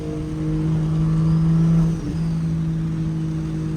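Straight-piped single-turbo BMW 335i engine revving close by, a steady loud drone that swells toward a peak, dips sharply for a moment, then holds again at a lower rumble.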